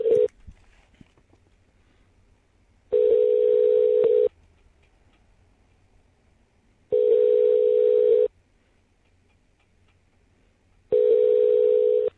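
A phone call placed to Intoxalock rings out as three evenly spaced ringback tones, each about a second long with roughly three seconds of near silence between them, clear and alone.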